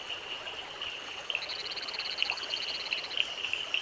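Frogs calling in a Western Ghats forest during the monsoon, a steady chorus of rapid, pulsing croaks with repeated trills layered over a constant background hum, moderately loud and without voices.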